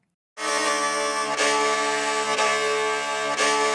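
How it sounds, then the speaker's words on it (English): A small scoring tagelharpa, a bowed lyre, sounds a sustained scratchy, upfront tone that begins abruptly after a brief silence and holds steady and loud, with a few bow changes marking new strokes. "With the scoring Tagelharpa, it's a different sound tonally"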